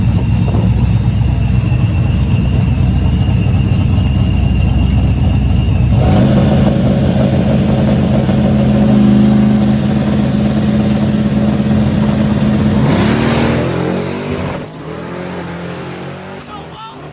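An S10 drag car makes a full drag racing pass, its engine roaring loud and steady as it accelerates hard, the pitch climbing through shifts before the noise drops away near the end.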